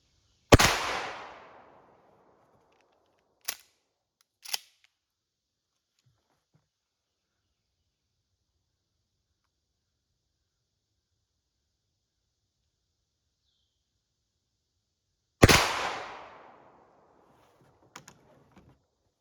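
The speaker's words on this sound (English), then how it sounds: "I'm gonna shoot it twice at 20 yards." A shotgun loaded with a slug and two .35 caliber round balls fires twice at a 20-yard target. Two loud, sharp blasts with ringing decays land about fifteen seconds apart, with a few faint clicks between them.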